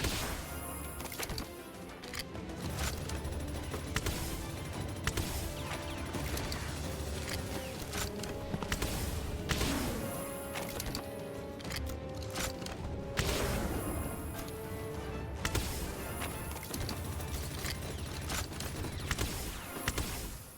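Gunfire and impacts fill a Palworld battle: constant rapid shots, crashes and mechanical clatter run together loudly for the whole stretch with no talk.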